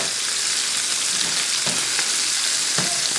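Italian sausages sizzle and fry steadily in a hot pan, a dense continuous crackle with a few soft scraping thumps as they are turned over, close and alone with no talk.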